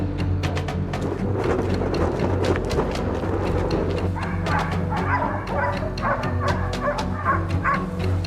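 A pack of hunting dogs bays and yelps frantically at a cornered wild boar in an open field, a dense overlapping chorus of barks and yips over a constant low rumble.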